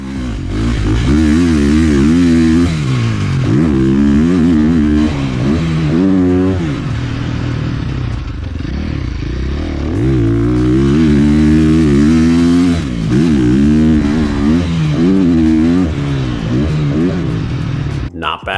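A motorcycle engine rumbles and revs up and down repeatedly while riding, with heavy wind buffeting roaring across an unprotected microphone on an Insta360 X6 camera throughout.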